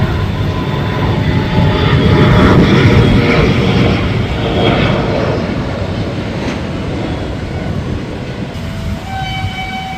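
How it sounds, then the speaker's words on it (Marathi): A loud, steady jet engine roar fills the clip, building then slowly easing as a 72-seat Star Air passenger plane takes off from Solapur; no talking. "बहात्तर आसनी हे स्टार एअरचं विमान मुंबईकडे झेपवलं आहे"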